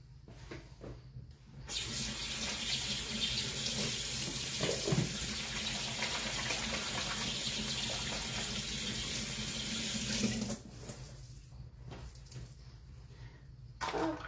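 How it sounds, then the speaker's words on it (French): A kitchen tap runs steadily for about eight seconds as hands are washed beneath it, a continuous close splashing that stands out against a quieter room before and after. "on se lave les mains et on commence"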